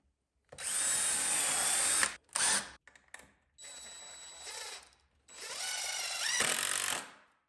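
A power drill drives screws into the wooden frame of a chicken tractor in three loud bursts of whirring with short gaps, ending in clicking ratchet sounds.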